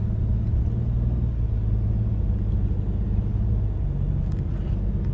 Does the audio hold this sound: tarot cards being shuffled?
no